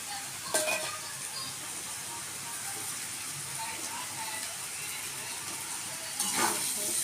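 Flattened rice hits a hot pan for chira pulao and sizzles softly in a steady low hiss, with a couple of sharper clinks of a spoon against the pan near the start and end.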